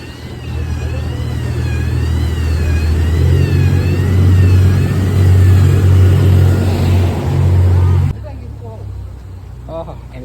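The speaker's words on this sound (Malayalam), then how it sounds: "boat boat boat" A motor boat's engine drones loud and steady as it passes under the Thevara bridge, with voices in the background, before cutting off abruptly near the end.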